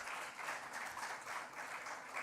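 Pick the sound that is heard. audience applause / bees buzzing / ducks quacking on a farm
audience applause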